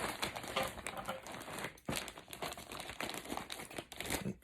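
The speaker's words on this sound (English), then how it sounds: "Let me just rip open the bag" A plastic bag is ripped open during an unboxing, giving close crinkling and tearing that runs in bursts throughout and pauses briefly in the middle.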